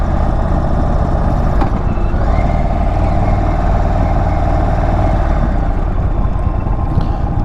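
A 2022 Indian Chief Bobber Dark Horse motorcycle being ridden, its engine a loud, steady low rumble with constant wind and road roar throughout, no voices.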